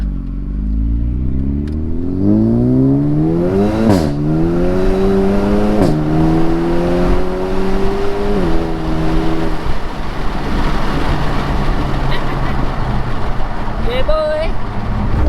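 A Renault Megane RS Trophy with a full exhaust system accelerates hard in race mode, its loud engine note climbing steadily through the revs with a brief gear-change break, then settling into a sustained roar as a voice talks over it.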